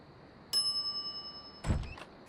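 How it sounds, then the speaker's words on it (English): A counter service bell in the Monkey Island video game gives a bright metallic ding that rings on with a long decay, followed by a second clatter of dings and knocks. "some idiot's already ringing that stupid bell"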